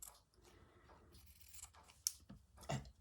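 Scissors snip fabric to cut out a leaf shape for a slow-stitch autumn collage, several faint, close, irregular cuts with soft crinkling in between.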